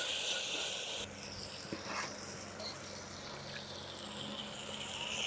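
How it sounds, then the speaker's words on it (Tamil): Water poured into a cooking pot of wheat and horse gram, a continuous hissing rush that eases after the first second into a softer, steady trickle. "இதை தண்ணி ஊற்றுறேன்"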